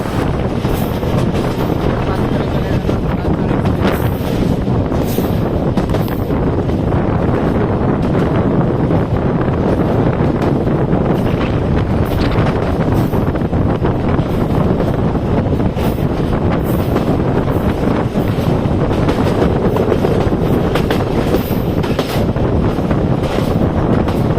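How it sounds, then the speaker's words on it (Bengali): The Rajshahi Commuter train runs through Shitlai railway station without stopping, heard from on board as a loud, continuous roar of rolling wheels and rushing wind. "রাজশাহী কমিউটার আন্তনগর ঢালাচর এক্সপ্রেসকে শীতলাই রেল স্টেশনে বসিয়ে থ্রু পাস করে চলে যাচ্ছে"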